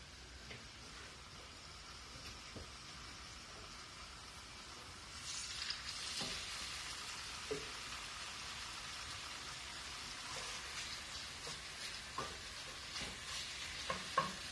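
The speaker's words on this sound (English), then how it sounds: "It's sizzling a little bit, but it could sizzle a little bit more." Pork browning in a hot wok for a pineapple stir fry gives a steady, moderate sizzle, growing a bit louder partway through, with scattered faint clicks and scrapes and no talking.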